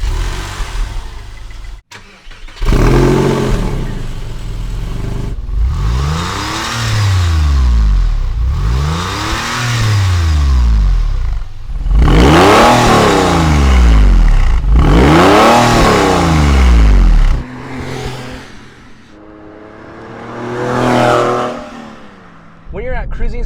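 Porsche 911 fitted with a Pfister sports exhaust, revving and accelerating repeatedly through gears, loud close engine pulls rising and dropping in pitch several times, with brief pauses between runs.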